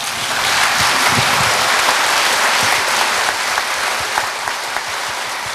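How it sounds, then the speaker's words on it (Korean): An audience at the inauguration ceremony of South Chungcheong's 37th governor bursts into sustained, dense applause, a loud continuous wash of many hands filling a large hall, with no speech over it. "박수 한번 치시기 바랍니다."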